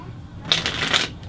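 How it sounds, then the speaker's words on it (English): A quick riffle shuffle of playing cards, a short burst of crisp fluttering clicks lasting about half a second, close and fairly loud. "you are good at shuffling. I heard a riffle."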